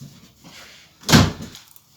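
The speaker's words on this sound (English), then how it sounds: "Whiskey just opened the door by herself." A door opened by Whiskey the dog in Sarajevo gives one brief, fairly loud burst of bumping and rattling, with faint room noise before and after.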